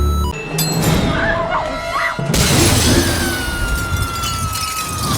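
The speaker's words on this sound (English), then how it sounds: "Plate glass windows don't simply shatter when you bump into them." Plate glass window shattering in a Final Destination movie scene, a sudden loud burst of breaking glass with bright tinkling fragments over a dense rumbling movie soundtrack, followed by a sustained roar with a high whining tone.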